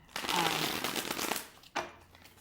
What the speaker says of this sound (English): that are this kind of plastic or PVC material. They shuffle lovely.